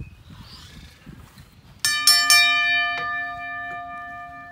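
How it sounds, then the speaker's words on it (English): A ring bell struck to start a wrestling match, three quick bright clangs that ring out and slowly fade, close and loud after a moment of quiet. "Nothing till the bell rings, gentlemen."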